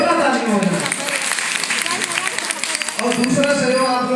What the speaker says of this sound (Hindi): मैं चाहूंगा मेरे सीनियर के सम्मान में साथियों जोरदार ताली हो जाए